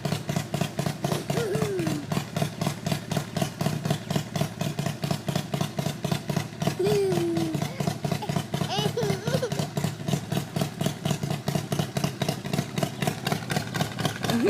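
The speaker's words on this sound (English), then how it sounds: "It's the motorcycle." A motorcycle engine idles steadily nearby with an even, rapid pulsing throb, while a few brief vocal sounds and chirps come through faintly over it.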